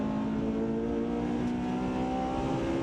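A Honda Civic FD2R Type R on Bridgestone RE71RS tyres accelerates hard out of a corner on track. The engine holds a loud, steady, high-pitched note for about three seconds.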